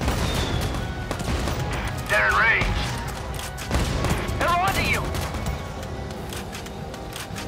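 Rapid bursts of gunfire from a Valkyria Chronicles 4 battle rattle on steadily through the whole stretch, mixed with game sounds and a spoken voice over the top.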